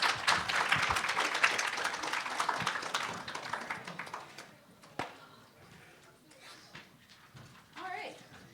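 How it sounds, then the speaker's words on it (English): A burst of audience applause, dense clapping that fades out after a few seconds, followed by quieter room sounds and scattered taps. "every group should get applause."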